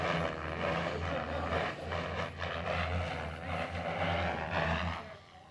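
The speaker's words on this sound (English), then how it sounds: "We got a cool little 3D helicopter out here." A small RC 3D model helicopter buzzes and whines steadily at a distance at an RC airfield, its engine tone wavering slightly under outdoor wind noise.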